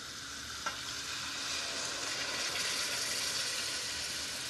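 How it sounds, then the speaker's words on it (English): Tinned tomatoes hit a hot pan of frying onion and spices for an Indian sauce, giving a steady, close, broadband sizzle that swells after a brief clink and carries on without any voices. "Add a tin of tomatoes."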